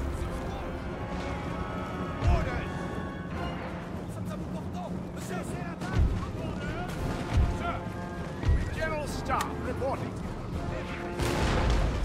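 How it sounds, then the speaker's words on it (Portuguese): Napoleon: Total War battle sounds, with scattered musket volleys and heavy artillery booms landing at irregular intervals, several sharp low thumps rising over a busy background of game noise and voices. "Olha o disparo!"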